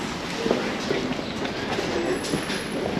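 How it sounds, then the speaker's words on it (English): A train rumbles past at Swanage, Dorset, with a continuous roar, faint clickety-clack of wheels and a brief metallic squeal near the end. "Let's sit and enjoy the train."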